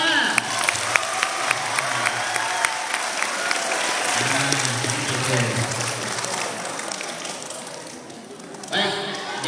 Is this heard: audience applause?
yes